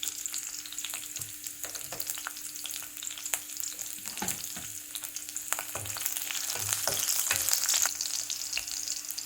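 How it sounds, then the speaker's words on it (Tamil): Ginger, garlic and green chilies sizzle steadily in a hot pan, with irregular scraping and clacking from stirring throughout and the frying growing slightly louder toward the end, with no voices. "முதல்ல நான் இஞ்சியும் பூண்டு பச்சை மிளகாயை போட்டு வதக்குறேன்"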